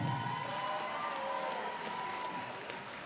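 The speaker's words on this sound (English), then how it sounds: "Let's have a respectful round of applause for the efforts of both of our professional sportsmen." Applause for both professional boxers after a six-round welterweight bout, a steady wash of clapping from the crowd with a faint murmur underneath, even and fairly distant throughout.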